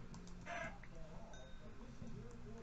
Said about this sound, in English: Okay, there's a ton more chickens over here.